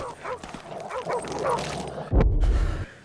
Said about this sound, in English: I then get eaten by a dog again